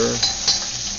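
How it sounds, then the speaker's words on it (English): Shiitake mushrooms frying in a pan, stirred once or twice: a brief scrape and clink of a utensil over a continuous close sizzle. "Give that a stir."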